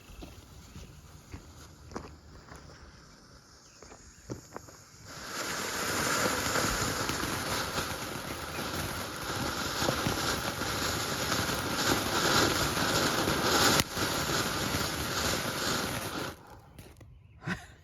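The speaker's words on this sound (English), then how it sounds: "Sky fountain, super fireworks." A sky fountain firework from a consumer assortment sprays and hisses for about eleven seconds after a quieter lead-in, a steady loud rushing crackle outdoors that cuts off abruptly near the end.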